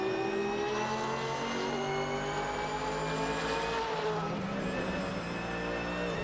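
A Porsche race car in a racing video game, its engine revving hard with rising and falling gear-change pitch sweeps, loud and continuous with no talk over it.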